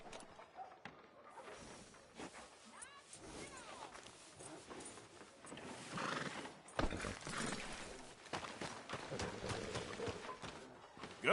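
A horse in the video game Red Dead Redemption 2 neighs and its hooves clop along on a street, with a few thumps in a fairly quiet game scene.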